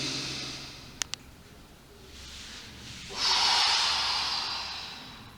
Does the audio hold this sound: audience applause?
no